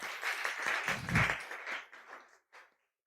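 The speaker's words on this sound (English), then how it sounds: "Round of applause." Audience applause at a talk event, a brief burst of clapping that swells and then trails off into scattered claps before silence.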